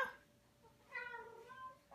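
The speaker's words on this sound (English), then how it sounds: "You're making the kitties meow." Household cats give a drawn-out, wavering meow at close range in a quiet room, with a brief second call starting at the end.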